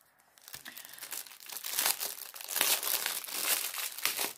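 A package of lace ribbons being opened, with loud, close crinkling and tearing of plastic wrapping in irregular bursts, and no talking.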